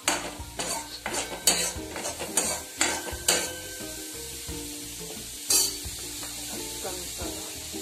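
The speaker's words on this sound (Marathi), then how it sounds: "फोडले पण आपण चांगलं तळलं, थोडा गॅस फास्ट करते" Food fries in a pan over a high gas flame, a steady sizzle broken by repeated clanking strokes of a utensil against the pan, close and loud, with no speech.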